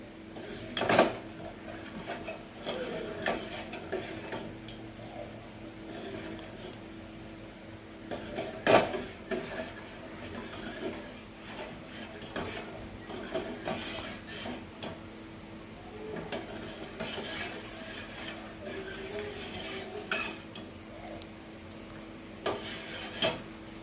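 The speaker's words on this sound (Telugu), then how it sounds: "షుగర్ అంతా కరిగేంత వరకు కలుపుకోవాలి" A spoon stirs sugar into Andhra-style payasam in a metal pot, with scraping and occasional sharp clinks against the pot, close and moderately loud, no talk.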